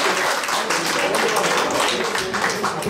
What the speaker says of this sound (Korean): 박수 한번 치겠습니다. 강하게 박수 한번 시작.